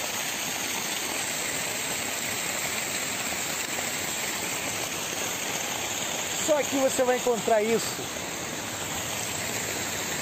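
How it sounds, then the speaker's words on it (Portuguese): A roadside waterfall tumbling down from a high rock gives a steady, broad rushing wash throughout, with a person speaking briefly over it partway through. "Olha lá em cima a cachoeira caindo lá"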